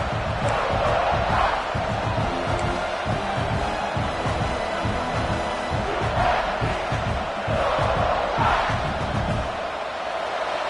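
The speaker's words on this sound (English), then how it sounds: "The roar of the crowd trying to fuel this defense to keep them pinned in their own end." Stadium crowd roaring steadily in the NCAA '26 college football video game, a dense loud wall of cheering that swells in waves throughout, with no clear talk over it.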